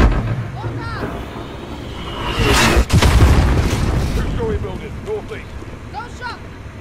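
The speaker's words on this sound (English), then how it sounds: "Shoot some mortars at that bitch" Heavy mortar blasts in Call of Duty Modern Warfare, a loud broadband boom near the middle swelling into a sustained rumbling roar of battle, with voices speaking over the fighting.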